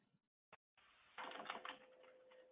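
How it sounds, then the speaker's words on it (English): Keyboard typing heard over a remote call connection: dense, fairly faint key clatter that starts after a brief dropout, with a steady electronic tone running underneath. "I'm hearing typing"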